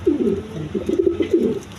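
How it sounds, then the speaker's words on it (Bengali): A pair of big-sized King pigeons coo close by in three throaty, rolling bursts that repeat in a steady rhythm over a quiet low hum. "এক পেয়ার কিং কবুতর আছে, একদম বিগ সাইজের"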